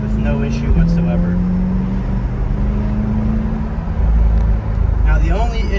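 A 2023 C8 Corvette Stingray accelerating out of a turn, its engine a steady low hum that rises briefly in pitch then drones on under close talking.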